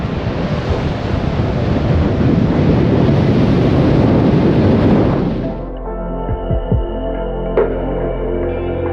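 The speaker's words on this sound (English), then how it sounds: "And you can see why, the waves are fierce." Fierce ocean surf on Iceland's south coastline roars loudly and continuously with heavy wind buffeting, then drops abruptly after about five seconds to a low hum with faint scattered sounds.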